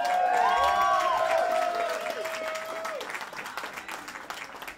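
An audience at a surf-rock band battle in a student house applauds and cheers, dense clapping with whoops and whistles, loud at first and gradually thinning out.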